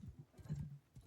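A slow horse's hooves clip-clop in Mount & Blade II: Bannerlord, a few faint soft thuds in quick uneven rhythm, alone and quiet.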